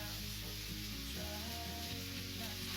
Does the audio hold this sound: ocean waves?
no